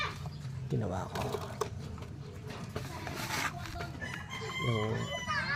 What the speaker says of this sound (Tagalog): Yan yung chicken natin.